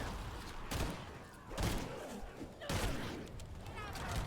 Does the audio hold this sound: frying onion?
no